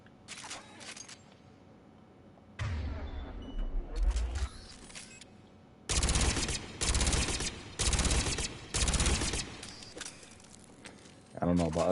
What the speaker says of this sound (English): That's the submachine gun I just shot with the scope on it.